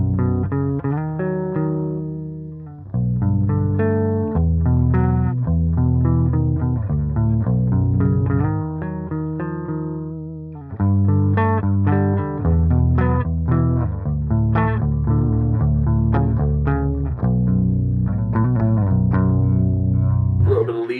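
Clean electric guitar on the clean channel with the front pickup, a warm, rounded tone, played as chords and picked notes with brief pauses between phrases, close and dry, no reverb.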